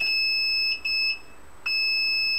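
A steady high-pitched electronic tone from a continuity tester detecting a short circuit on a gaming PC's components sounds almost continuously, briefly breaking off twice before resuming, with no talking over it.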